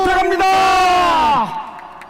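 Crowd at a political rally gives a loud, sustained collective shout that rises and then falls away after about a second and a half, with no clear applause heard.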